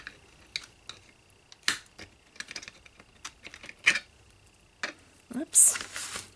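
Scissors snipping through craft ribbon for a handmade birthday mini album, a few short, sharp cuts scattered among quiet handling noises, with a person talking nearby.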